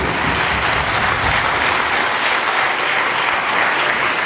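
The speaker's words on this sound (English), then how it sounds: "Give her a big round of applause, please." Loud, dense applause from guests at a mom's 80th birthday party, a steady roar of many hands clapping close by without a break.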